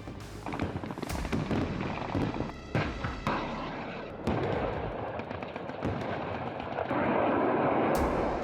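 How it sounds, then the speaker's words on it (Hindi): Heavy artillery guns fire repeatedly during military exercises in Poland, sharp booming blasts echoing over a constant rumbling, crackling battlefield roar, with no talking. "पोलैंड की धरती पर तोप गरज रही है।"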